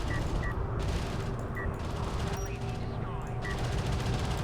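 Missile barrage and gunfire in the space strategy game Homeworld: Deserts of Kharak, rapid rattling bursts and launches with beeping alerts, dense and continuous under faint talk.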